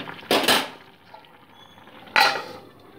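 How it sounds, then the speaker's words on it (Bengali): Lid set on a cooking pot of simmering greens, two sharp metallic clanks about two seconds apart, with a faint quiet background between them. "দিয়ে মোটামুটি আবার লিড চাপা দিয়ে 2 মিনিট ফুটিয়ে নিচ্ছি।"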